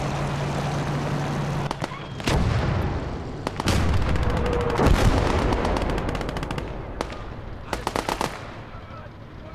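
Heavy mortar and artillery fire in the World War II game Gates of Hell: Liberation pounds in loud booms, with rapid machine-gun rattles and dense crackling volleys layered between them, and voices shout faintly underneath.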